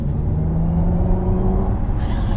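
A Hyundai Ioniq 6 electric car plays a synthetic engine note through its enhanced active sound design in the G engine setting: a steady low hum and drone while driving, close and constant, without speech.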